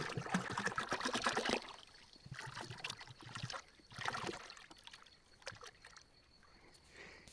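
Liquid fertilizer (a multi-nutrient complex) poured into a one-tonne water barrel for feeding raspberries, making a sloshing, trickling splash that is strongest at first, then continues in softer intermittent pours.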